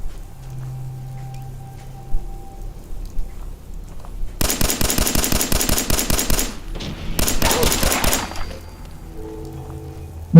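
Gunfire in the Fallout video game: two loud bursts of rapid automatic fire, the first lasting a couple of seconds and the second shorter, after a quieter stretch of low background game sound.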